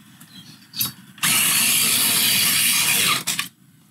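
A long point pencil sharpener grinds a Polychromos colored pencil in one loud, close, whirring burst of about two seconds, with brief clicks and handling noises before and after.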